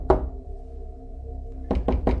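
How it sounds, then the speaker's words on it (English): Knocking on a door, one sharp knock, a pause filled with low hum, then three quick raps in a row, close and clear with no talking. "Then we heard the first knock."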